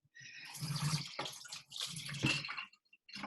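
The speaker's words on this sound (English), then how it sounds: "I'm just going to wash the egg off my hands." Running tap water splashing over hands being washed free of egg in a home kitchen, a steady close hiss with brief breaks and shifts as the hands move under the stream.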